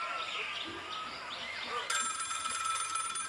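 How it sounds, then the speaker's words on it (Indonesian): A telephone rings in a Minecraft animation, a bright repeating electronic trill that starts partway through and continues steadily over a busy background of music and effects. "Ada telepon bro."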